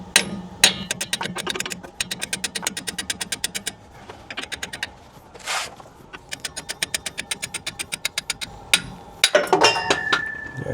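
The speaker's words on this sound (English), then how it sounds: "I like to just take a hammer, kind of tap on it" A hammer taps on a Prevost bus part held by nuts, giving quick bursts of sharp metallic clinks in fast regular runs, broken by short pauses and a few heavier knocks, close up.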